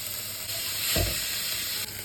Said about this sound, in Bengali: এবার ওই ভাজা এঁচোড়গুলো দিয়ে দিলাম, দিয়ে আবার নাড়াচাড়া করে ভালো করে কষতে থাকলাম।